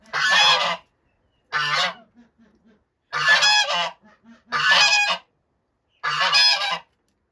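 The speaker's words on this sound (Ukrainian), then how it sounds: "Такі гарні сірі гуси." Grey geese honk in five loud, nasal bursts spaced about a second apart, close by, with brief quiet gaps and faint calls between.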